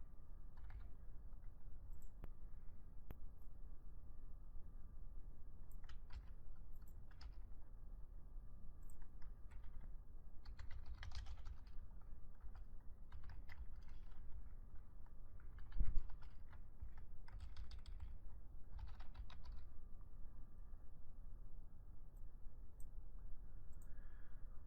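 Typing PL/SQL code on a computer keyboard, bursts of light key clicks in irregular runs with pauses between them, close but faint over a quiet room hum, plus one louder knock partway through.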